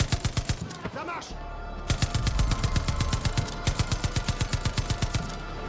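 Rapid automatic gunfire in the video game Far Cry 5, loud, evenly spaced shots repeating in long bursts with a brief pause near one second, voices speaking faintly underneath.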